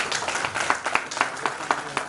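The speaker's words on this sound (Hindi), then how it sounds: "जोरदार तालियां भोपाल चैप्टर के लिए प्लीज।" Convention audience clapping for a chapter presentation at a national gathering, a rhythmic run of sharp, roughly evenly spaced claps at moderate loudness, with faint background murmur.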